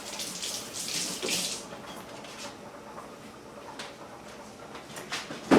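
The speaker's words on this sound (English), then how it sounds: "give my hands a rinse" Hands rinsed under a running kitchen tap while preparing a Thanksgiving meal, a steady hiss of water with a few brief splashy swells and a small knock at the end, close and fairly quiet.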